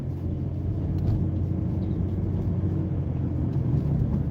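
A car pulling away from a four-way stop on a 25 mph road, a steady low engine and road rumble heard from inside the cabin, even and continuous throughout with no talk.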